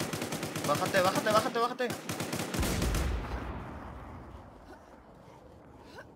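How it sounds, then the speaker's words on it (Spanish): Gunfire and grenades in the video game Infestation New Z: rapid rattling bursts of shots, then a heavy grenade boom that rolls off into a long fading rumble, with someone speaking briefly over the firing. "Están disparando con granadas, güey."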